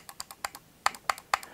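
Eight sharp right-button clicks from a Logitech MX Anywhere 3 mouse, slightly higher-pitched than the left button, in an uneven rhythm, close and crisp, with no talking.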